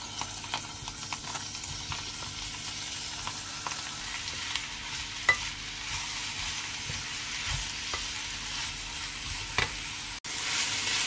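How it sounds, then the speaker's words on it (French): Onions sizzling in olive oil in a frying pan, a steady close crackle and hiss with occasional sharper pops, running without pause under no talk. "je vais les faire revenir à la poêle. Ici, je mets un petit peu l'huile d'olive et l'oignon"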